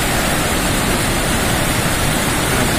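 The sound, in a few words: Rhine waterfall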